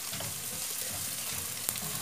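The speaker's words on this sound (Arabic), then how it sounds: "وفي نفس الطاسه اللي سوينا فيها الفراخ هنحط مكعبين من الزبده، وهنزل عليهم ببصلايه مفرومه كده" Minced onion frying in butter in the same pan that cooked chicken slices, a steady close sizzle and crackle with soft stirring scrapes and one sharp clink near the end, no voices.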